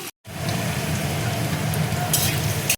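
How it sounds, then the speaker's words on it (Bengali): Chopped ginger dropped into hot oil in a wok, a steady close sizzle and fry hiss that starts abruptly after a brief silence and continues evenly. "কড়াই দেখো তেল দিয়েছি, তেল দেখো গরম হয়ে গেছে, আদা কুচি দেখো দিয়ে দিচ্ছি"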